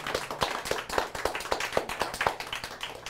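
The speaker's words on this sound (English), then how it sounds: "we need to give our patient an awesome round of applause" A small audience claps steadily for the patient at the close of a live root canal demonstration on tooth #14; the claps are fairly sparse, close and moderately loud, with no voices.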